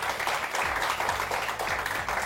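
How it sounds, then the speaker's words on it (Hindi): A studio audience on a morning television show claps for a guest, a steady, moderately loud round of applause with a faint low hum running underneath. "रानिया आपा के लिए बहुत सारी तालियां"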